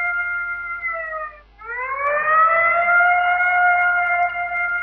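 A police siren wailing outside, with loud sustained rising tones that briefly break off and then sweep back up and hold, no voices heard.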